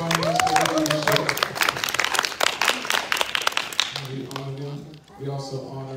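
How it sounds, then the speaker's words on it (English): A church conference congregation claps in a burst of dense applause while a preacher speaks loudly over it, the clapping thinning out and giving way to talk after a few seconds. "Come on, let's clap on this."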